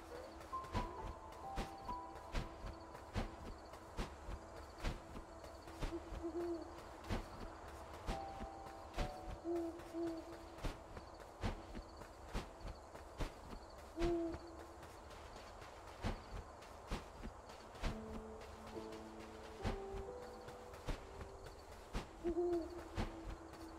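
Repeated owl hoots in the game Death's Door, sounding at intervals over a muffled game soundscape with soft footstep-like taps and low musical tones.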